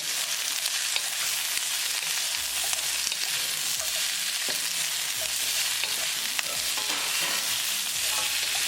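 French beans with spices are stirred in a pan as they sauté, a continuous crackling sizzle with scattered clicks and scrapes of the spoon throughout, no voices.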